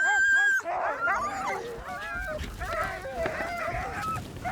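Sled dogs of an Arctic hunters' team bark, yelp and whine together, a dense overlapping chorus of many animals close by that carries on without a break.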